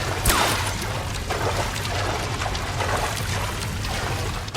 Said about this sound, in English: The water's rising.